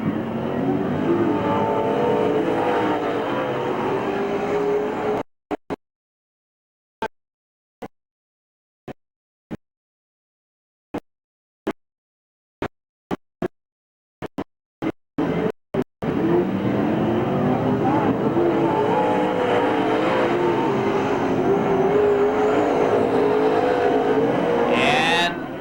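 Street stock race cars lap Merced Speedway in 1989, a dense, steady engine roar that cuts out into near silence with scattered clicks midway before resuming, a commentator talking over the racing.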